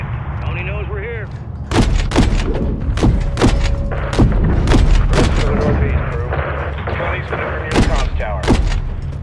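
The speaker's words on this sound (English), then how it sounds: "Gunner, lay down cover fire." Heavy gunfire and booming impacts from Call of Duty Modern Warfare III ring out in a rapid series of loud, close shots and thuds, with radio chatter and voices talking between the bursts.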